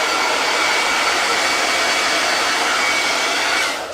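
A hair dryer blows continuously at close range over a freshly brushed first paint layer on Halloween decor, a loud, steady whooshing rush that cuts off right at the end.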